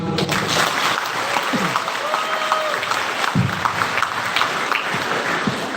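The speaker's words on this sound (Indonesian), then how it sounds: "Beri tepuk tangan" An audience at a briefing session for university community-service students applauds in a steady, even wash of clapping, moderately loud and sustained throughout, with a faint voice or two briefly audible beneath.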